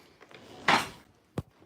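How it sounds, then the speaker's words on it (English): An apartment door in Paris swings shut with a short, muffled thump, followed a moment later by a sharper knock as the latch catches, fairly close in an otherwise quiet room. "I'm going to close my door."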